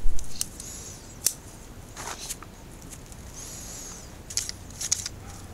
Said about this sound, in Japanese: 飛び出てくる枝もありますので、それらは木バサミで切り取ります